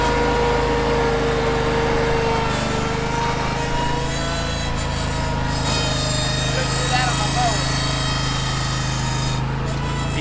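A Ventrac tractor mower drives up a steep slope through rough grass, its engine holding a steady, fairly loud drone with a mechanical whine that runs unbroken throughout.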